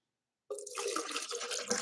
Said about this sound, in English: I'm going to pour myself a big old glass of limonada.